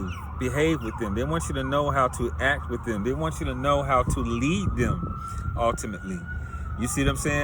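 Someone talks steadily while an emergency siren wails behind him, rising and falling and then holding a long tone, fairly loud and continuous.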